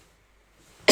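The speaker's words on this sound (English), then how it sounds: "I'm going to cough, hang on." A single sharp cough bursts out abruptly at the end after near silence, close to the microphone.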